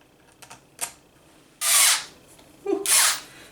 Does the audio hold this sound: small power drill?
yes